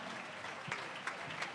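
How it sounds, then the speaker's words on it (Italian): Brief, fairly faint applause from an audience at an outdoor music event in Savignano sul Rubicone, a soft steady patter of clapping with a few louder claps. "Un applauso."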